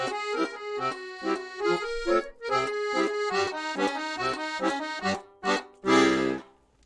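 A reedy accordion plays a series of sustained chords using black-key notes, with short gaps between them, some sounding dissonant, ending on a louder, fuller chord.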